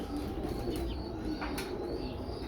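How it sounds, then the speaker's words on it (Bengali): English Tippler pigeons cooing softly at close range, low murmuring coos repeating under a steady loft background with a few faint chirps. "এটা টিপলার পেয়ার এগুলো নতুন থর করা হয়েছে ইংলিশ টিপলার"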